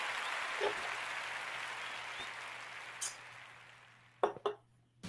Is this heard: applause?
yes